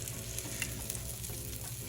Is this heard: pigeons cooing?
no